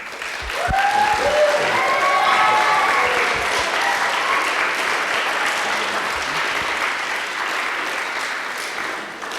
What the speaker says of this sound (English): those applause really go to your teachers